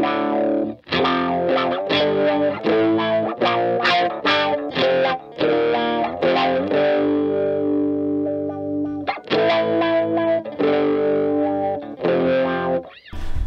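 Distorted electric guitar riffing through a Behringer Hellbabe wah pedal with its sweep turned fully back, giving a dark, thick tone; loud chugging chords and sustained notes with short breaks, played alone.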